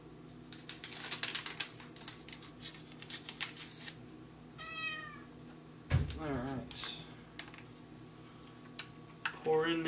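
A pet cat meows in a home kitchen beside someone cooking, a few short rising cries and one longer wavering yowl, close by, amid clinking and clatter from cooking and brief talk.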